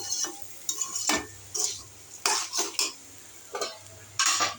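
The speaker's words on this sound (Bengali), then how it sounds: "চিচিঙ্গা দিয়ে ডিম দিয়ে ভাজি করছি।" Snake gourd and egg frying in a pan, a soft background sizzle broken by intermittent sharp scrapes and clinks of a spatula against the pan, spaced irregularly.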